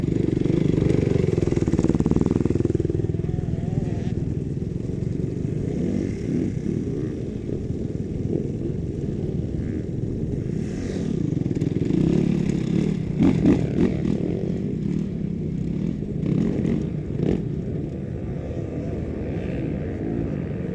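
Motocross dirt bike engine droning and revving steadily throughout on a rough trail ride with log obstacles, loud and close with a few sharper throttle surges near the end.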